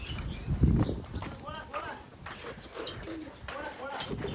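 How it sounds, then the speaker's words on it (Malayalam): A white pigeon coos softly in low repeated calls while people talk nearby in a date palm orchard in Saudi Arabia. "ആ പ്രാവടാ, വെള്ളപ്രാവ്"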